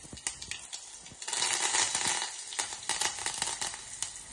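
Curry leaves and crushed garlic, with mustard seeds and asafoetida, crackle in hot oil close by, a dense sputtering sizzle scattered with sharp pops, and no voices.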